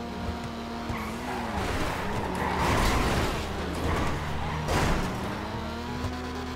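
A roaring car engine in GTA V Online revs up and down continuously, loud and close, with tire squeal and skidding mixed in.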